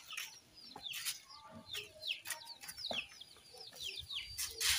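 Chickens and young chicks clucking and cheeping, a busy mix of short overlapping calls close by, fairly faint with light background rustling.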